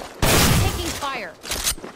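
Gunfire in the video game Apex Legends, a loud dense burst of shots running over roughly two seconds with a brief dip near the end, heard alongside game voice lines.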